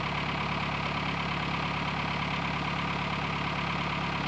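A car engine idles steadily at a fairly high idle, a constant low rumble with an even pulsing beat that stays unchanged throughout, moderately loud and with no voices over it.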